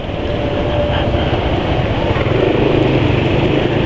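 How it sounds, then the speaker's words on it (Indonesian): Motorcycle engine running smoothly on fresh PAO and ester oil, a steady even hum with a faint mechanical whine, loud and close throughout. "Sekarang ini kondisi suara mesin sudah lebih baik daripada yang kemarin."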